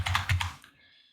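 A short burst of about five crisp keystrokes on a computer keyboard, typing a search term into a folder in Unreal Engine, close and clear, fading into quiet.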